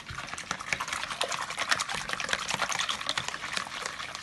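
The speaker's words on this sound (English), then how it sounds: "Now we're going to add our milk and our oil to the mix. So that goes straight in." Milk and oil poured into a bowl of muffin mix give a steady, close liquid pouring and splashing that runs evenly throughout, with no talking.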